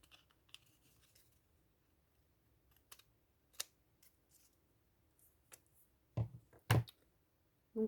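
Old embroidery scissors snip off excess material from a craft card, a sparse series of quiet crisp cuts and clicks ending in a few louder snips close by.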